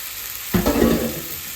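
A burger patty fries in a pan on a stove: a steady hiss of sizzling fat, with a brief louder burst of crackle near the middle, with no talking.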